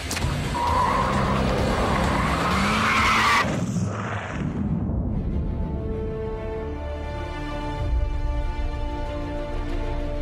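Gumpert Apollo supercar driven hard, tyres skidding in a long loud squeal over roaring engine noise, then fading into a steady drone.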